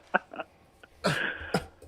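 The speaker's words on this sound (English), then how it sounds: "He took that one puff and he inhaled too much. He's coughing." A man coughs after inhaling smoke, giving several short, harsh coughs and throat noises in quick succession, close by and fairly quiet.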